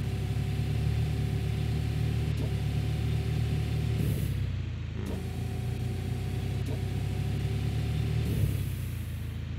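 A mining machine's engine revving in the video game Gold Rush: The Game, a loud steady mechanical drone with tonal harmonics that dip and resume in repeated cycles.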